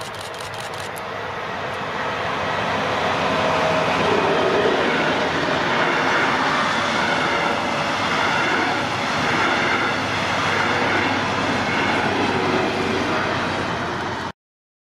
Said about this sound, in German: Oh, da kommt schon der Zug.